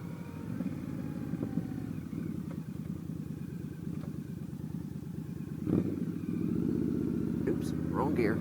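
Motorcycle engine running at steady road speed with a mid-pitched drone, then a clunky mis-shift into the wrong gear and the revs changing, faint and under a rider's talk.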